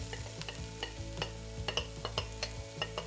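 Onion and green pepper sizzle in a pan for a Hungarian pork stew, with a steady fry hiss broken by regular scraping stir strokes, close and fairly quiet, with no talking.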